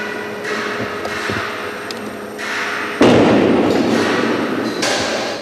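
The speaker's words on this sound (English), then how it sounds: "As the strains increase, the structure responds with eerie creaks, cracks, and booms." A precast concrete hybrid moment frame under structural load testing gives off sharp cracks and dull booming thuds, scattered irregularly, with one heavy burst partway through followed by sustained rumbling noise.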